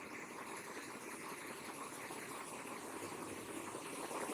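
A sewing machine runs steadily while stitching a newborn baby girl's frock, a continuous fast mechanical whir with dense rhythmic ticking, faint and close, with no talking.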